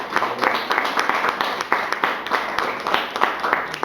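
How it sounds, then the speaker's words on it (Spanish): Church congregation clapping in praise during a worship service, a brisk rhythmic round of hands with a few voices mixed in, fairly close and steady. "¿Cuánto le dan un aplauso al Señor?"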